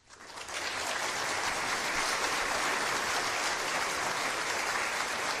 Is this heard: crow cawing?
no